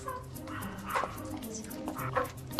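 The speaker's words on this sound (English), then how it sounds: "Oh, that's a happy dog." A happy dog gives short yips and bow-wow barks mixed with whimpers, fairly close, while people's voices are heard softly in the background.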